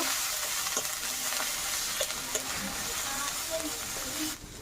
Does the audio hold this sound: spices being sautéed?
yes